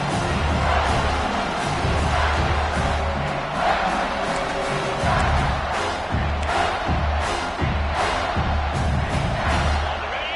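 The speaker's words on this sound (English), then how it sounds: "Here comes this home crowd as the defense tries to get off the field on third down" A home crowd at a college football game roars steadily and loudly on third down, a sustained wall of cheering and yelling with surging peaks throughout.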